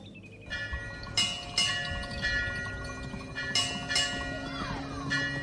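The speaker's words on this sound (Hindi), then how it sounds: "मंदिर में बज रही घंटी की आवाज़" Bells ring repeatedly at an old temple, several metallic strikes with long sustained ringing tones layered over a steady background hum.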